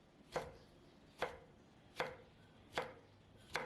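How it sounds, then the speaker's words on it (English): Five evenly spaced knife chops through red chillies on a cutting board, crisp and close, with quiet pauses between each cut. "Cut 2 pieces or 40 grams of red chilli into smaller pieces"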